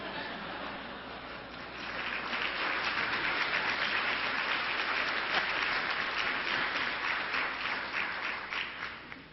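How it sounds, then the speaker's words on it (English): Steady applause from the audience at a university board of regents meeting, continuous dense clapping at moderate volume that swells slightly and holds for nine seconds. "And we applaud them in turn for all that they do."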